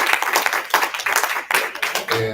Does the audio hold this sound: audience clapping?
yes